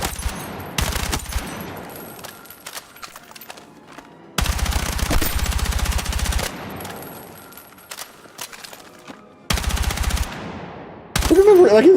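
Long bursts of automatic gunfire from a heavy-recoil weapon in a video game, three or four rapid sustained volleys separated by pauses, loud and close, with fading echoes between bursts.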